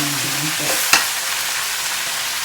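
Food frying in a pan for a curry gives a steady, close sizzling hiss, with a single sharp clink of a utensil early on.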